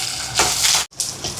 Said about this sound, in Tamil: இப்போ பாருங்க வெங்காயம் எல்லாம் நல்லா வதங்கிட்டு